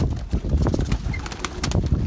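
A young pigeon held in the hand gives soft low coos, with rustling and faint wing or body movement close up, in short irregular bursts and no speech.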